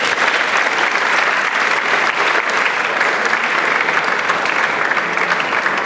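Loud, dense applause from a forum audience greeting an introduced guest speaker in Malaysia, a continuous roar of many hands clapping at a steady level throughout.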